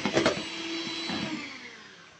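An electric mixer beats cake batter with tangerine zest and vanilla, a short close whirring buzz that fades off after a couple of seconds, with no one talking.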